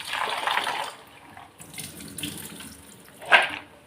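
Tap water runs steadily into a kitchen sink while black-eyed peas are rinsed, with gentle splashing and swishing close by and one sharper splash near the end.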